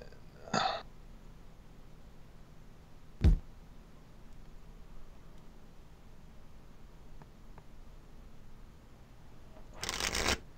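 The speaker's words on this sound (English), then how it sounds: "shuffle the deck up." Two short bursts of a deck of cards being shuffled for a match in the online card game Lackey, one near the start and one at the end, with quiet room noise and a single thump between.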